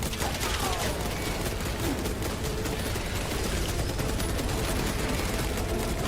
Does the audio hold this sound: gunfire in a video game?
yes